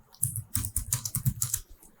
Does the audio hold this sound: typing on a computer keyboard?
yes